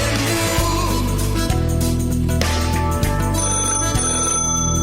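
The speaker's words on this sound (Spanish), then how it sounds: "al viejo teléfono de línea" An old landline telephone rings in repeated electronic bursts, a steady loud ringing tone pulsing with clear breaks between rings, with no voices alongside.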